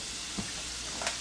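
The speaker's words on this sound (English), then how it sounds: "Let it start frying up, doing its thing." Shrimp and zucchini noodles fry in a pan with a quiet, continuous sizzling hiss, broken by a couple of soft clicks or stirring taps.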